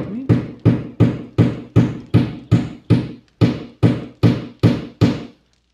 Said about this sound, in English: Someone's hammering something above me.